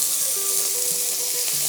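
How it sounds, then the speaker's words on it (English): Seafood char kway teow frying in olive oil in a pan, a loud, constant close-up sizzle with faint stirring scrapes and a few brief tonal squeaks, no talking. "It sizzles."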